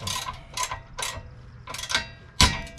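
Hand ratchet working on a tight Torx 120 bolt, giving several separate bursts of clicking strokes close by, with a sharper, louder burst near the end and no speech.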